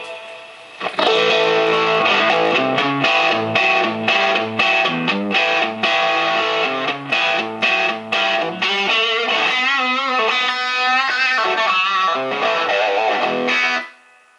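Electric guitar played through a Fender Blues Junior amp with extra gain, loud overdriven chords and single notes ringing steadily for about thirteen seconds before cutting off.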